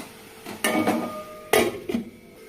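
A metal lid clanks onto a cooking pot of pumpkin ghonto with whole mung dal simmering on a gas flame, making four sharp clatters in two close pairs in a quiet kitchen.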